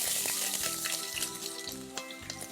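Chopped onions hit hot vegetable oil in a pot and sizzle loudly, a dense, steady crackling hiss with small pops, close by and without any talk.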